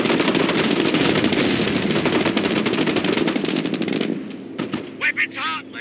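Dense, continuous machine-gun fire rattles loudly in a Company of Heroes battle and then breaks off into a few scattered shots and shouted voices near the end.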